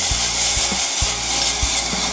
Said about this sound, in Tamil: நம்ம வதக்கி இருந்த வெங்காயத்தை கூட இதை சேர்த்து நல்லா கலந்து கொடுத்துக்கலாம்.